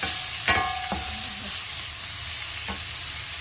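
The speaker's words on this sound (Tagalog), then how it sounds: "Ayan, lagay na ang sibuyas." Onions sauté in a pan while Ilocano pakbet is being cooked, with a loud, steady sizzle up close, broken by a few sharp clanks of a utensil against the pan and no talking.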